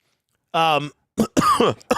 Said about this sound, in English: I muted, coughed, and then immediately coughed again.